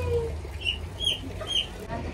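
A small chicken clucks close by in a few short, sharp calls spaced about half a second apart, over faint background noise.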